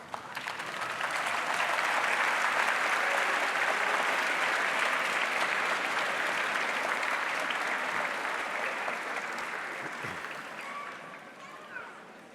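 Graduation commencement audience applauding, a broad sustained wash of clapping from a large crowd that swells, holds for several seconds and slowly fades.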